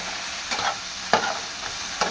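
Vegetable bhaji fries and is stirred in a pan, a quiet sizzle under a few sharp scraping strokes of the spoon.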